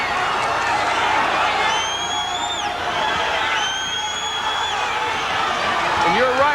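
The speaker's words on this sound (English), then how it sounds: "This New Jersey crowd exhorting Cole on" A New Jersey boxing arena crowd roars and cheers a heavyweight on, with high whoops and whistles rising above a dense, sustained crowd noise while a commentator talks over it.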